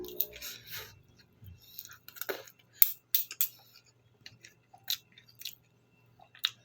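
Crunchy dried anchovies are chewed close to the listener, giving scattered crisp bites and crunches with irregular gaps, mixed with light clinks of cutlery against a dish.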